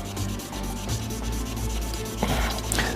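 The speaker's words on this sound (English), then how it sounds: "I'll just give this one a little bit of sand by hand as well before I move to the next grit." A shaving brush handle being sanded by hand with sandpaper: continuous close rubbing and scratching in quick back-and-forth strokes, steady and fairly loud, with no talking.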